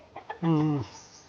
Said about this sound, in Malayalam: കോഴികളൊക്കെ ഓരോന്നായിട്ട് ഇറങ്ങുന്നുണ്ട്.